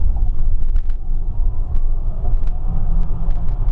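A Tesla Model X electric SUV accelerates hard. Inside the cabin there is a steady, loud low rumble of road and wind noise with no engine roar.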